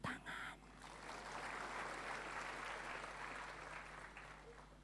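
A church congregation applauds together at a worship service, a dense broadband clatter of many hands that swells after a brief opening burst and holds steady at a moderate, somewhat distant level with no speech over it.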